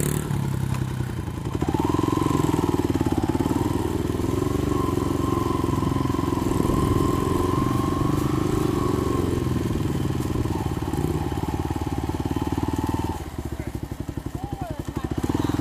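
A dirt bike engine catches after a kick-start and idles loudly and close for about eleven seconds in a steady rumble, then drops to a lower, rougher idle near the end.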